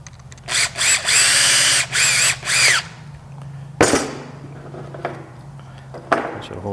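A power drill whines in several short bursts close by, revving up and down, followed by quieter clicks and a couple of sharp knocks.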